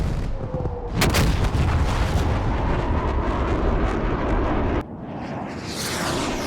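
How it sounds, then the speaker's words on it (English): A laser-guided bomb explodes in a flight combat video game bombing mission, a loud, sustained roaring blast with heavy rumble that fills the scene before cutting to a slightly quieter roar. "My partner just dropped a laser guided bomb."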